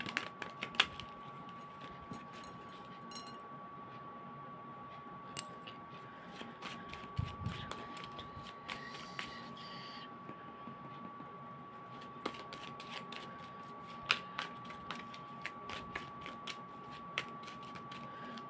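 Tarot cards being shuffled by hand, a faint, soft riffling and flicking that runs continuously with scattered sharper clicks, close but quiet and with no voice.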